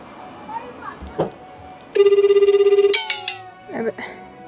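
A telephone ring tone sounds while placing a call, a pulsing trill lasting about a second, with brief voices and rustles around it.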